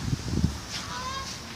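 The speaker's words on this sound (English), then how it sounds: "Goose, shut up." A goose honks faintly nearby at home, a short drawn-out call after a few low thumps, against a soft background hiss.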